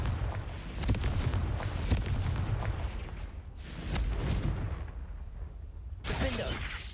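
Confringo fire spell cast in Hogwarts Legacy on hard mode, a series of heavy booming blasts with rumbling tails, repeated at short intervals and ending in a sharper, brighter burst.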